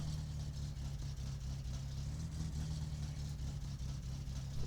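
Satsuma car in My Summer Car, battered after a crash, idling steadily with a low rumbling engine drone throughout, close and constant with no talk.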